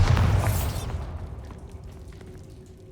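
A Bombarda spell detonates in Hogwarts Legacy: one loud, near explosion with a bright crack at the onset, then a rumbling tail that decays over about two seconds into quieter debris and ambience.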